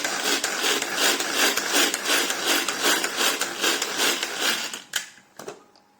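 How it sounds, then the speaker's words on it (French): A Tupperware hand chopper minces shallot with a steady run of rapid gritty chopping and rasping strokes, close and continuous for about five seconds, then stops with a couple of final knocks. "le premier travail, c'est d'émincer l'échalote"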